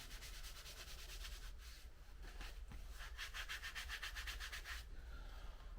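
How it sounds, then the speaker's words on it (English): A cloth rubs excess dye off a piece of leather in quick back-and-forth strokes, a soft rhythmic scrubbing that is faint and close, with no talking. "Just get a cloth. I'm just going to get a rub down."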